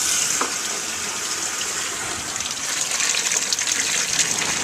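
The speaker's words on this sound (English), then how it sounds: "This gives me an opportunity to really flush out the radiator as well." Water gushes steadily as a 1978 Dodge RV radiator is flushed out, a continuous, fairly loud rushing splash with no talking.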